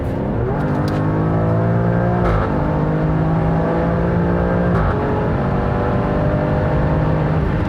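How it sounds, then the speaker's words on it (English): A 2020 Alfa Romeo Stelvio Quadrifoglio performance SUV in race mode accelerating hard from 100 to 180 km/h, loud rising engine roar broken by two quick gear shifts, heard from inside the car with no talking. "So that was 100 kilometers to 180 kilometers, and that was some serious sound there, right?"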